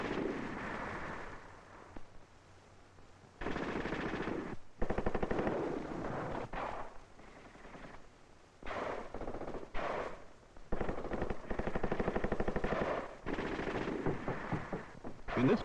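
Sustained bursts of machine-gun fire and heavier tank gunfire roll through an army combined-arms training exercise, loud and near, with rapid rattling volleys broken by brief pauses.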